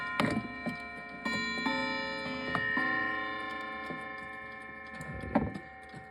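A loud clock ticks in a slow, even rhythm nearby, with a faint steady hum running underneath.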